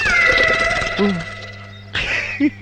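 A cat meows a couple of short times close by, with a voice and some background noise around it.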